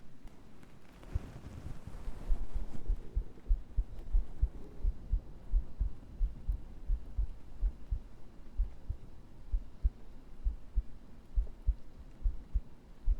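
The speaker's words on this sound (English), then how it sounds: "I'm doing heartbeat because that's what these heartbeat cultists want." A steady, close heartbeat plays for an ASMR stream, soft thumping pulses repeating in an even rhythm over a faint hum.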